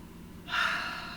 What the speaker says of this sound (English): Another deep breath, guys.